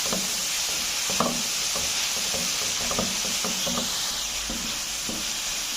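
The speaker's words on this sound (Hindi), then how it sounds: "इसको अच्छी तरह मिक्स करेंगे।" Steady sizzle of chicken masala frying in a pan as soy sauce and white vinegar are stirred in, with repeated spoon scrapes and taps over the hiss and no talk.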